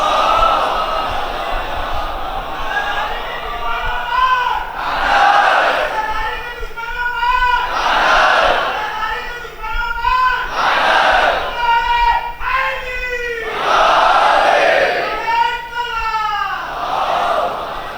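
A large gathering at a Shia majlis recites salawat together in loud chanted unison, voices rising and falling in repeated phrases.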